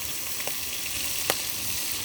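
Eggplant fritters frying over a wood-fired stove give off a steady, hissing sizzle, with two faint brief pops rising above it partway through.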